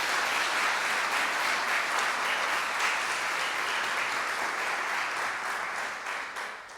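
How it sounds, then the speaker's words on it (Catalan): Sustained applause from a concert audience at an end-of-year music school brass ensemble performance, dense and even, heard from a moderate distance before tapering off at the close. "un fort aplaudiment"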